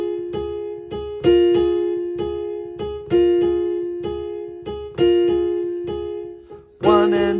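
A piano's right hand plays a short repeating rhythm of plucked-sounding notes over a held low F, the notes steady and evenly spaced with a brighter chord at the end, played alone with no talking.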